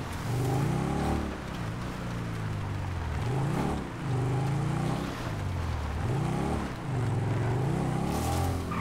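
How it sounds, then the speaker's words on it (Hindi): A car in GTA 5 drives off, its engine note rising and falling through repeated gear shifts, loud and close at first, with no talk over it. "अरे वो गाड़ी चली गई"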